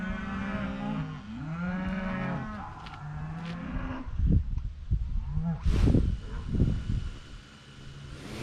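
Cattle at a ranch moo in long, drawn-out calls, several overlapping bellows early on, followed by rustling, wind buffeting and handling noise close to the microphone.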